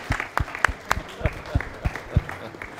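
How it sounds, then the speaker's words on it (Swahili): Scattered applause from a school audience at a Swahili arts performance, a few separate claps spaced unevenly rather than a full ovation, fairly close and moderately loud. "makofi"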